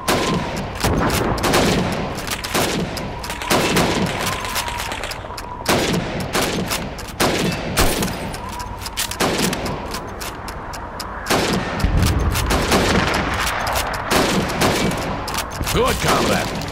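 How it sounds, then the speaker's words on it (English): Rifle fire in the Call of Duty 2 video game as a soldier shoots helmets against a timer in a training range: rapid, loud shots crack in close succession for the whole stretch, with brief gaps between bursts. "You have 15 seconds to shoot the helmets."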